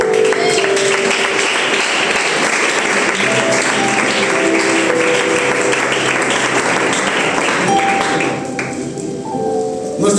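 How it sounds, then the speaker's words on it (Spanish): A church congregation breaks into sustained, full applause during a sermon, loud and dense for about eight seconds before thinning out toward the end, with no voices over it. "Dale un aplauso a la palabra."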